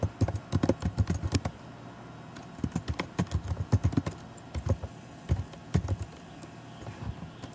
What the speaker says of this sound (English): So we're going to go ahead and type out